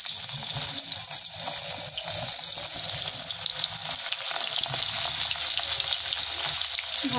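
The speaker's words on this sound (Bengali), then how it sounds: "এবার আমরা মাছগুলোকে ছেড়ে দেব তেলের উপরে।" Fish fried in hot oil in a pan, a loud, steady sizzle and spatter that runs unbroken from start to finish with no voices over it.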